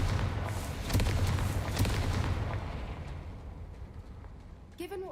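A Confringo fire spell from Hogwarts Legacy erupts in heavy, booming blasts with sharp cracks, then rolls off into a fading rumble, and a short tonal magical effect rings out at the very end.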